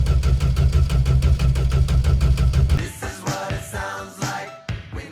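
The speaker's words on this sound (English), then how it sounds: "I start my 1965 Plymouth Valiant V200 Signet with a slant 6 engine." A 1965 Plymouth Valiant V200 Signet with a slant 6 engine cranks with a loud, rhythmic starter chug for several seconds, then catches and runs with uneven, sputtering firing.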